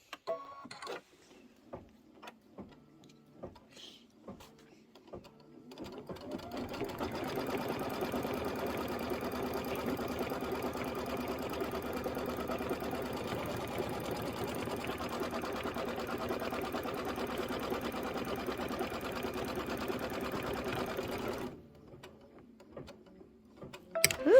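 A sewing machine runs a continuous rapid stitching drone while tacking down a quilt block, starting after a few quiet clicks and stopping abruptly, close and steady throughout.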